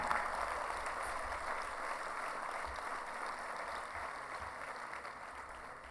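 Steady applause from a luncheon audience at Florida State's 62nd annual kickoff event, a continuous even wash of clapping heard from across a large room, moderately soft and unbroken for the whole stretch.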